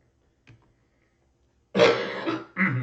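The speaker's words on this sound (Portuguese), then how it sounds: "Desculpe pela tosse." A faint short sound comes first, then a loud, close coughing fit of two harsh throaty bursts, one person alone with no talk.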